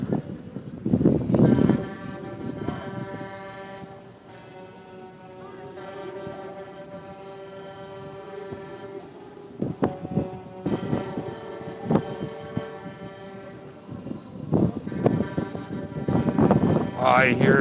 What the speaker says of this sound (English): I hear air horns.